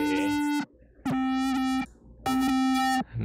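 A Minimal Audio Rift hybrid distortion plugin colours a buzzy, harmonically rich synth tone, heard as three sustained distorted notes separated by short gaps, loud and upfront with no talking.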